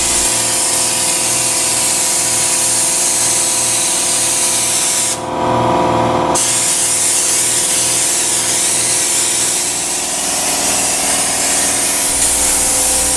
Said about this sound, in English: Here I am spraying the ceiling.